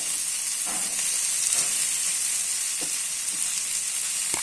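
Vanjaram seer fish frying in a pan, a steady hiss and sizzle of hot oil throughout with a few soft bubbling pops, no voices.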